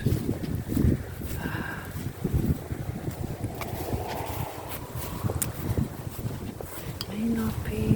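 Wind blowing outdoors, a constant rough rumble buffeting the microphone throughout, with a person talking over it.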